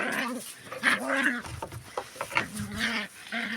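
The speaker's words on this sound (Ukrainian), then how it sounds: "Отакий злий пес." A guard dog on a rural farmyard barks in short, harsh bursts at close range, mixed with goat-like bleats and farm animal noises. A person talks nearby throughout.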